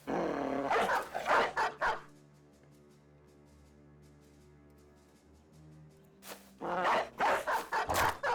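A dog in the medieval mercenary game Battle Brothers barks and growls in two bursts, several sharp close barks at first, then quiet, then another volley of barks with snarling.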